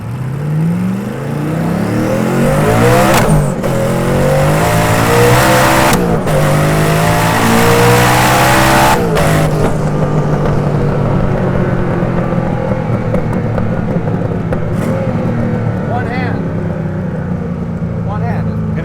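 Hennessey Venom F5 hypercar launching from first gear at full throttle, a loud, rising engine roar that climbs steadily through the gears, heard from inside the cabin with occasional voices under it.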